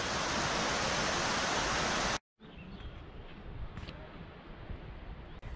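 Broadband rushing roar of Zapata Falls, a waterfall in Colorado's San Luis Valley, loud and steady for a couple of seconds before cutting out, then continuing as a fainter, more distant wash with a few soft bird-like chirps.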